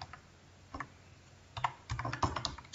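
Typing on a computer keyboard, sparse clicks at first and then a dense cluster of keystrokes, close and clear in a quiet room.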